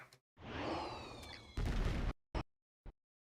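Fireworks go off in a video game: a whooshing launch, then a loud burst and two short sharp pops, with silence between them.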